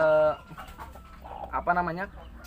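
A protective mother hen gives sharp, agitated clucks and harsh calls while guarding her chicks, close and loud in short bursts with brief gaps between them.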